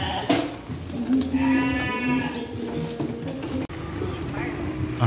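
Sheep, breeding rams of 30 kg and up, bleat loudly and repeatedly at close range while being loaded into a vehicle, with bustling movement and low background noise between the calls.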